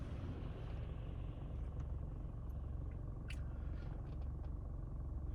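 Renault XM3 1.6 car engine droning steadily from inside the cabin while driving, a continuous low rumble with a faint whine throughout, no talking.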